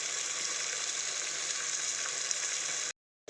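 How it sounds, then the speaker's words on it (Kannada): Tomato and onion frying in hot oil give a steady, close, even sizzle for about three seconds before cutting abruptly to silence, with no voices. "ಇತ್ತ ಬಿಸಲಡಿ ಎಣ್ಣೆ ಪಾಡ್ದು ದೆನ್ ಫ್ರೈ ಮನ್ಪುಗ ಟೊಮೆಟೊ ನೀರುಳ್ಳಿ"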